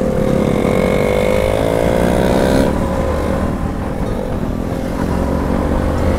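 Motorcycle engines on a group ride with a KTM Duke 250, Yamaha MT-15 and RC200, a steady close drone with rising revs for the first few seconds, then a continuous rumble with wind.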